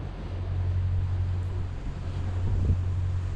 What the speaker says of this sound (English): Sustained gust.